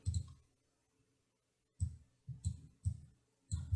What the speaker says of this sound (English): So Rect, you click it.